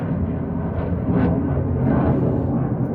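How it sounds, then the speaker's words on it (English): A loud, low jet roar from a United States Air Force military jet taking off from Lakenheath rumbles continuously overhead, swelling slightly in intensity over a few seconds. "Sorry about the noise. United States Air Force taking off"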